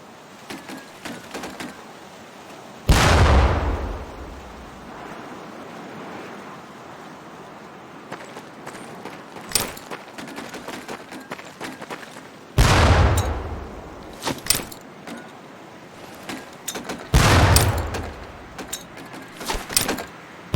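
Training grenades exploding on a practice range in Medal of Honor Pacific Assault: three loud, separate booms a few seconds apart, each with a rumbling tail, with scattered clicks and small clatters in between.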